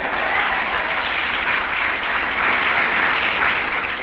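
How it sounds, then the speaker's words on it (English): A large audience claps and applauds at a political rally, a dense, even wash of clapping that stays loud and steady throughout with no voices over it. "I don't like the way you're clapping tonight."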